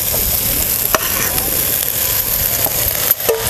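Cooked rice being tipped into a pan of raw mango tempering and stirred, with a steady close sizzle, scraping and a few sharp spoon knocks against the pan.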